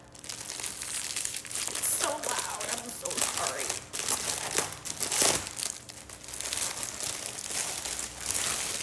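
Tissue paper for honey product packaging crinkles and rustles repeatedly as it is handled, close and fairly loud, with a person talking over much of it.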